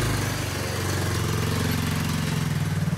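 A motorbike engine idles and runs steadily close by, a loud, rhythmic mid-pitched chugging that holds for the whole stretch with no other sound over it.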